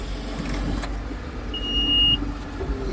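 Case 621F wheel loader with a hydraulic oil leak running close by, a steady low engine drone with a brief thin whine rising midway, no talk.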